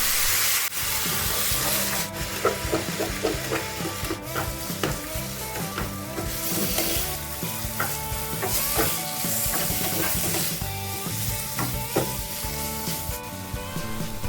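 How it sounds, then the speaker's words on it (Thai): Bitter gourd and beaten chicken eggs are stir-fried in a pan, with continuous sizzling and repeated scraping and tapping of a spatula against the pan, close and fairly loud. "ผัดจนไข่สุกเลยค่ะ"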